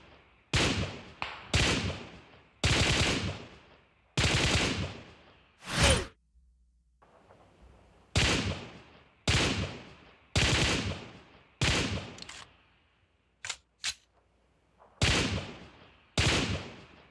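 Rapid gunfire effects from a mobile shooting game, part of a latency test on wired earphones and Galaxy Buds, come in a string of loud, sharp bursts with short gaps and a few quick single shots, with no talk.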